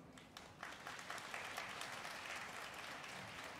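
An outdoor crowd applauds a Ground Self-Defense Force band after its concert performance, a faint, distant, even wash of many hands clapping that swells slightly and continues steadily.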